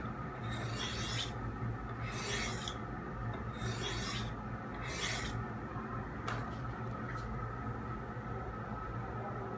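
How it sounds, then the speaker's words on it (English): Blade edge being sharpened at an angle, with four rhythmic rasping strokes followed by a few lighter scrapes over a steady background hum, close by. "So that's your normal angle that you sharpen at"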